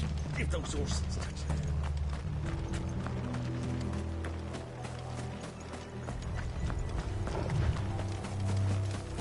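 Horses run at a gallop with fast, continuous clip-clopping hooves under a dense rumble and mechanical rattle, loud and close throughout.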